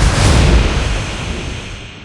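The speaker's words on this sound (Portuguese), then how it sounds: "eles percebem uma bomba caindo" A bomb falling and exploding in the video game Injustice 2, heard as a loud, broad rumbling blast that swells at the start and slowly fades over about two seconds, with no talk.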